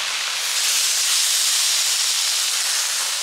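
Garlic sizzles in a hot pan alongside veggies and burgers, a steady, loud, unbroken hiss from start to finish with no talking.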